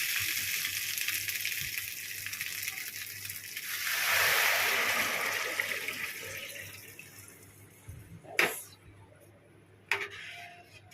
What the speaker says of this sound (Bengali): হয়ে গেছে ভাজা আমার ভাজা হয়ে গেছে আমি এবার এই জলটা দিয়ে দেবো আস্তে আস্তে